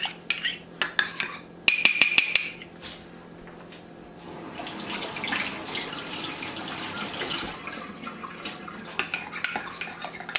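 Utensils and dishes clink in a kitchen sink before a running tap takes over, a steady near gush of water rinsing for several seconds with occasional knocks.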